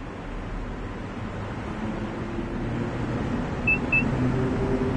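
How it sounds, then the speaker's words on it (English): Long Island Rail Road M3 electric train running in Train Sim World 4, a steady low rumble and broadband rolling noise with faint high squeals, continuous and fairly close, no talk. "does the M3 sound like this? Because it sounds a lot like the 1972 stock."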